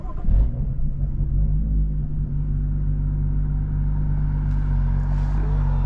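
A 500hp BMW 435i idles with a deep, steady low rumble; it opens with a brief louder blip, and a few faint pops and crackles sit over the even drone.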